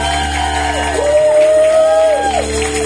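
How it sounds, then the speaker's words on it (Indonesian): Church congregation at a worship service cheering and shouting praise, a sustained loud crowd roar with rising whoops and a long sliding tonal cry, fairly close and continuous throughout. "Beri tepuk tangan yang meriah bagi Allah kita."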